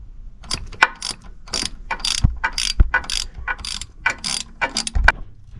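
Ratchet turning a 15 mm shallow socket on a starter bolt of a 2001 Dodge Grand Caravan 3.3 V6, heard as close, repeated bursts of rapid clicking in short strokes with brief pauses between them.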